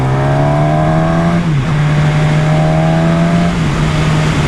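A 2020 Suzuki Katana motorcycle engine sounds loud and close: a steady drone that dips as the throttle shuts, then rises again as it opens, with two such dips across the span.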